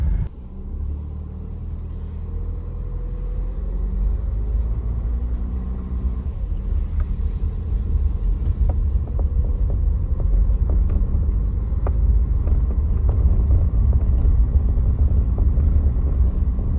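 A car drives slowly up to a chateau in France at night, a steady low road rumble with engine drone and scattered light clicks and bumps throughout, close and continuous.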